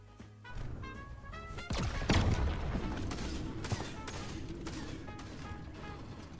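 An in-game weapon fires a black hole in a Fortnite-style shooter, producing a loud boom followed by sustained crackling, whooshing effects and scattered impacts, close and dense throughout.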